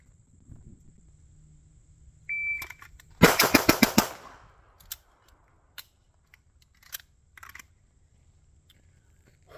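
CZ Shadow pistol firing seven rapid rounds at three yards on a range, a tight loud string of sharp shots, preceded by a timer beep and followed by scattered faint clicks.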